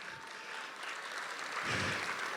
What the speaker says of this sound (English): So please give a round of applause for Binay ji and Mona ji.